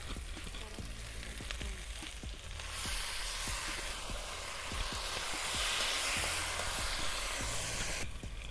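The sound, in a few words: marinated vegetables sizzling in pan for Jatka Ilish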